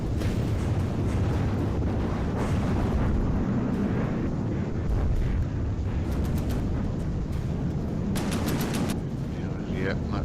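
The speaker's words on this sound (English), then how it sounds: "Cannon fire, not really aimed at anything in particular." Cannon fire and explosions in a video game battle, a steady rumbling barrage of booms and bursts with crackling impacts, continuous and fairly loud, with some voices faintly mixed in.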